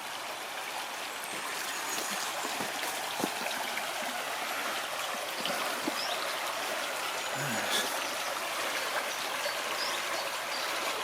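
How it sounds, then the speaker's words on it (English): A river flowing along a valley walk produces a continuous, moderately quiet wash of running water with faint trickling detail and a few soft incidental knocks. "As the river flows."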